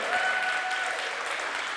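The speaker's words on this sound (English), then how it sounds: "Y'all clap too long. That was not worthy of all that damn clapping." An audience at a folk festival workshop stage applauds in a dense, sustained burst of clapping that fills the space, loud and continuous throughout.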